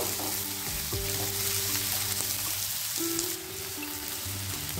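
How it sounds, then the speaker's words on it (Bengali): Chopped onions fry in a hot pan for a chicken snack, a steady loud sizzle with faint stirring scrapes and no voices. "পেঁয়াজ কুচিটাকে একটু 2 মিনিট ভেজে নেব"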